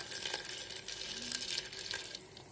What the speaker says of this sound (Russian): Сейчас налью воды.